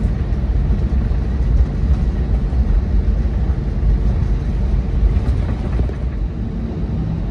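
British Airways Airbus A320neo taxiing toward the runway at Geneva, a steady low rumble of engines and rolling wheels heard from inside the cabin, constant and fairly loud with no talking.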